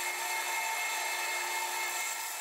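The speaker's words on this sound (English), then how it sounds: "I used a small drill bit to drill a hole for the nose and a hole on each side of the body for the arms." Small drill bit boring holes in a wine cork, a continuous high whining power-drill buzz, close and steady from start to end with no talking.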